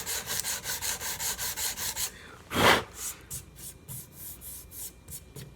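Sandpaper rubs by hand along the wooden fretboard of a Vega Tubaphone tenor banjo, first in quick, even back-and-forth strokes, then one long, heavier pass followed by slower, irregular strokes, close up with no talking.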